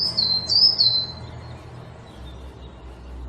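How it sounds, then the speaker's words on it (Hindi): A bird calls loudly in a few shrill, rapid chirps during the first second, then fades away over a low, steady rumble. "अचानक एक चिड़िया तेज तेज चिल्लाने लगी।"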